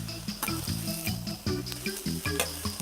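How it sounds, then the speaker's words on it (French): Scallops searing in a hot pan, a loud continuous sizzle with a series of sharp clicks and clacks as the pieces are flipped one after another. "vous retournez les noix de Saint-Jacques qui sont tout juste dorées"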